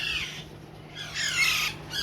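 Alexandrine parakeet chicks squawk in harsh, rasping bursts, two clear calls about a second apart with a steady low hum underneath.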